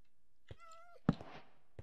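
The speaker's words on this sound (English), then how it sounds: "There's a cat meowing." A Minecraft cat gives a single short, tonal meow, followed by a soft thunk and a couple of faint clicks against near silence.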